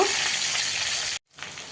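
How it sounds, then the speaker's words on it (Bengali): Pointed gourd frying in a pan with potatoes until browned, giving a loud, steady sizzle that cuts out abruptly for a moment near the end, then resumes more faintly. "পটলটা দিয়ে একটু লাল করে ভেজে নেব"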